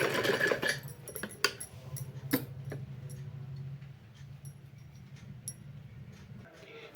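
A sewing machine stitches old cloth into warm homemade slippers, a steady low mechanical whir running through most of the stretch with a few sharp ticks and clicks on top, close and moderately loud.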